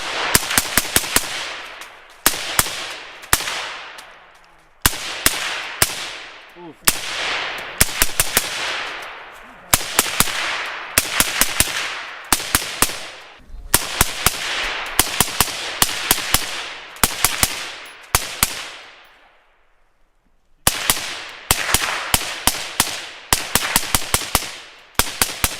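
Suppressed rifle fired through a Whisper Strike 30 cal suppressor, loud close strings of rapid shots in bursts with short pauses, roughly a dozen volleys, no talking.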